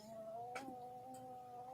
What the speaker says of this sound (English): there's a face off going down here with my cats again